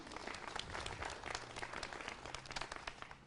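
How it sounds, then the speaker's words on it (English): A crowd applauds steadily at a news conference, many hands clapping in a dense, even patter that carries on without pause, moderately loud from a room full of people. "Let's a big round of applause for math teachers."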